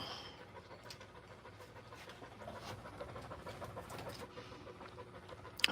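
A dog pants in a steady, breathy rhythm, fairly close and moderately loud, with faint bird or fowl sounds in the background and a sharp clatter at the very end.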